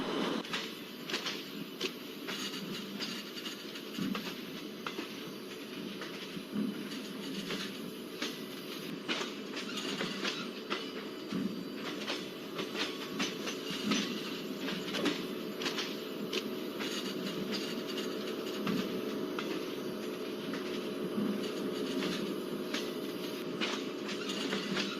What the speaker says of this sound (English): We are overtaking that container train.